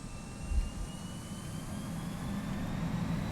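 Airbus A320 jet engines spooling to takeoff power in X-Plane 11, a steady broadband roar with a low rumble that holds loud and even throughout, no voices.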